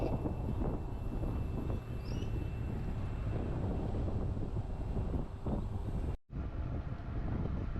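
Steady, loud headwind buffets the microphone as an electric recumbent tricycle climbs a hill, a dense low roar that runs almost without break apart from one brief dropout near the end.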